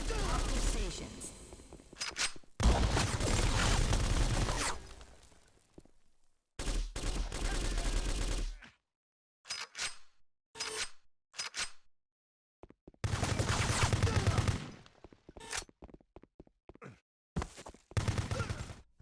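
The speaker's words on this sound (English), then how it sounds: "most of your time will be spent taking cover and shooting bad guys" Bursts of gunfire from the third-person cover shooter Kill.Switch crackle in rapid volleys and isolated shots, separated by short silences, with a narrating voice talking in places.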